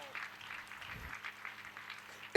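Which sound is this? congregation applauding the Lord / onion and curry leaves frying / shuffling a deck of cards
congregation applauding the Lord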